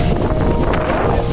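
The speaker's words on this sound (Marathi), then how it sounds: "आता मस्त वारा सुटलेला आहे" Strong wind at the Kataldhar waterfall near Lonavala buffets the microphone with a loud, continuous rumbling roar and gusty surges, with no voices.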